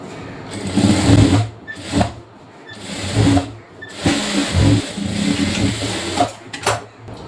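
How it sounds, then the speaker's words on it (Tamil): Sewing machine running in bursts while stitching a side and sleeve seam on a 34-inch blouse, motor whirring loud and close with short pauses between runs. "இப்போ ஒட்டி ஒரு 1/4 இன்ச்சு தள்ளி அதே மாதிரி ஒரு தையல்."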